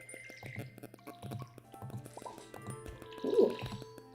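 Crops are watered with a watering can in Stardew Valley, giving soft splashing drips and plops repeated in quick bursts over light game music.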